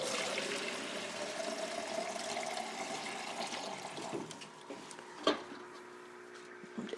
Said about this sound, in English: make up some more of the Rev water to soak it in for a little bit